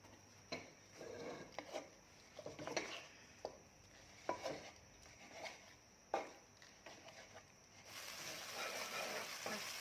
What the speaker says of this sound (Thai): เดี๋ยวเราจะผัดเครื่องก่อน